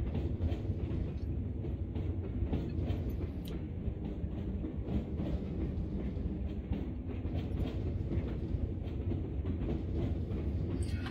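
A Class 33 diesel locomotive in a train simulator game on the West Somerset Railway rumbles steadily along with dense low-end drone and faint rhythmic clatter, continuous and fairly loud throughout with no voices.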